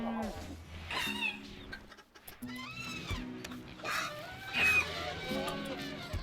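Chickens in the RimWorld video game cluck and squawk in a string of sharp calls over a soft, steady musical drone, with no talking heard.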